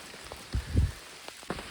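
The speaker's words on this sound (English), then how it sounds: "it is pouring rain" Pouring rain patters steadily on a surface nearby at a campground, with a few heavier drops and soft thuds standing out.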